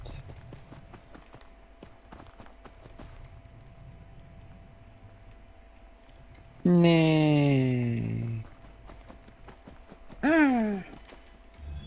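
Horse hooves clip-clop steadily in the online fantasy game Echo of Soul as a mount is summoned, joined by two loud rising whinny-like calls near the end, with a brief spoken word.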